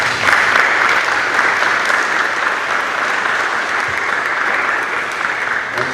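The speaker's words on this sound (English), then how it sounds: "Give yourselves a round of applause." Sustained, loud applause from a gathered audience at an outdoor wall-demolition ceremony in Hoffman Estates, steady clapping filling the whole stretch without a break.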